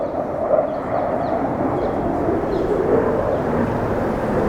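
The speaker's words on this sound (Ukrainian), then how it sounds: "Винищувачі якісь полетіли." Fighter jets flying overhead produce a steady, loud broadband roar that stays at a constant level throughout, with no voices present.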